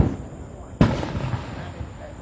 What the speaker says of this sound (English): Now you want to throw these little fireworks.